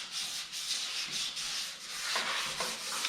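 A Poverty's Potential vehicle part, likely grille or bumper trim, being sanded with 320 dry then 400 wet sandpaper, producing a soft, continuous rhythmic rubbing hiss with repeated strokes, close and fairly quiet.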